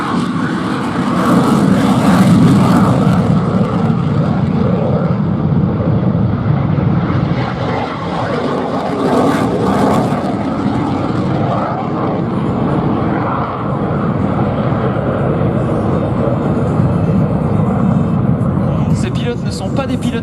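Dassault Rafale Marine jet flying at an air show display, a loud continuous roaring engine rumble sustained throughout with a commentator talking over it.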